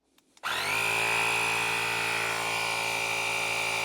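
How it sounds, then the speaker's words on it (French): A mini multifunction air compressor tyre inflator starts after a couple of clicks, then runs with a loud, steady high-pitched motor whine close by and no talk. "Et là, je démarre le gonfleur."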